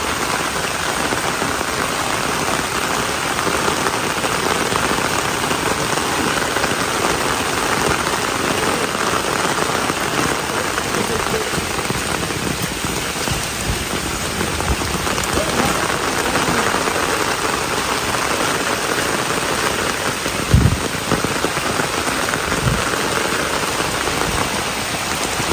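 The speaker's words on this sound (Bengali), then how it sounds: "আবার বৃষ্টি চলে আসছে।" Steady, dense rain falls across a Haribhanga mango orchard in Rangpur, a continuous hiss of drops on leaves and ground. A couple of brief low thumps come near the end.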